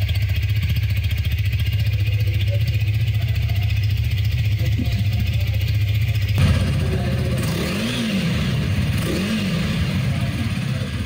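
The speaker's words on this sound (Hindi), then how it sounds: "यही है ड्यूक 250 का एग्जॉस्ट नोट" A 2024 KTM Duke 250 motorcycle engine idles with a steady throbbing exhaust, then is revved twice in quick rising blips, loud and close.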